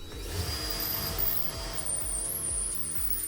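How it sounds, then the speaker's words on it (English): A power drill driving screws into wood whirs in short repeated bursts, spinning up and down several times at moderate volume with no talking. "I could go in with my stronger drill and really press them in"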